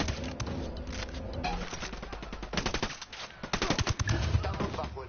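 Rapid gunfire comes from the weapons of a PS4 shooter game, with bursts of fast repeated shots that grow denser toward the end.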